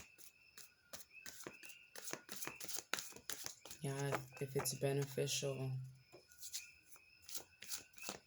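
Tarot cards are shuffled in rapid, crisp riffling clicks that run throughout at close range, with a short stretch of soft speech in the middle.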